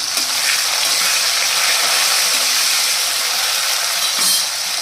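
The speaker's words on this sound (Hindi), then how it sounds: "और इसी के साथ में हम डाल देंगे कटे हुए टमाटर" Chopped tomatoes go into a hot pan for a Janmashtami dish, giving a steady, loud broadband sizzle with faint stirring clicks throughout and no talking.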